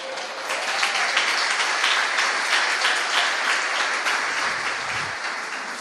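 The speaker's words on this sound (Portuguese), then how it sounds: "Você pode aplaudir Jesus por essa palavra?" A church congregation applauding together, a broad, even wash of many hands clapping that holds steady for several seconds and eases slightly near the end, with no speech over it.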